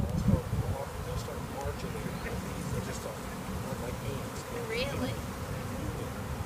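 A honeybee swarm hums in a dense, continuous buzz close by outdoors, with a voice speaking briefly over the drone.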